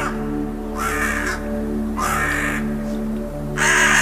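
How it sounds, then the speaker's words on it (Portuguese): A raven gives three harsh, separate caws spaced about a second apart, clear and fairly close, over a steady low hum. "E soltou um corvo."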